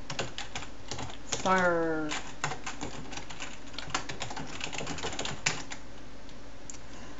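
Code being typed on a computer keyboard for a C++ tutorial, with a rapid, uneven stream of close key clicks and a brief spoken word partway through.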